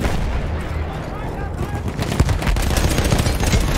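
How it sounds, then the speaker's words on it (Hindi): In the Battlefield 1 campaign, machine gun fire rattles in dense, rapid bursts, loud and continuous, with distant booms and someone talking over the battle. "ओ भाई मशीन गन मार रहे हैं"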